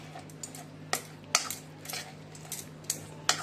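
Homemade curd chutney is stirred in a bowl, with a spoon giving scattered light clinks and scrapes against the dish over a quiet, steady background hum.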